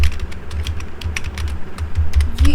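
Loud, close typing on a computer keyboard while writing Python code, with rapid uneven keystrokes and soft thuds of the keys bottoming out, and no speech.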